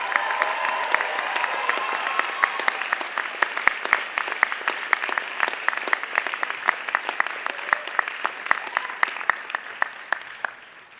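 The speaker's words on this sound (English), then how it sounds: "I want you just for a moment, as I step away, give them the hand clap." Applause at a 2018 NYU Law LLM/JSD convocation, a dense steady patter of many hands clapping that fills the room, slowly thinning toward the end, with some crowd noise.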